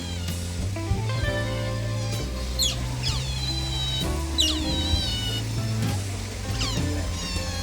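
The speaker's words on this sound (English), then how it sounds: "There were 2 incredibly noisy otters later on in the zoo." Otters at a zoo let out repeated high, wavering squeals and moaning cries, several overlapping calls over a low steady background hum.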